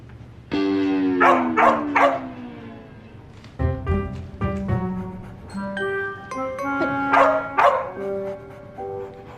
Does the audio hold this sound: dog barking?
yes